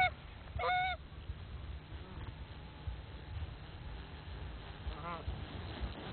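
Geese honk during a waterfowl hunt, with a loud close honk near the start and another fainter burst of honking later, over open outdoor background noise.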